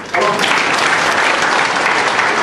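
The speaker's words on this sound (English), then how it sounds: "Another round of applause for them." Sustained, dense applause from an audience honoring students at a school event, starting abruptly and staying loud and steady throughout.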